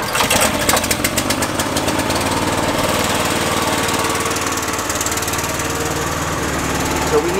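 A core sampling drill rig's engine runs steadily and close by, a rough rumbling drone with a mechanical rattle, holding constant throughout with no voices.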